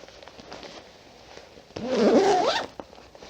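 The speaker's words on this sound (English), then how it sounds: "Sorry for the zipping." A zipper on a floss or thread storage case being zipped, one quick rasping pull lasting under a second, close and loud after some faint handling clicks.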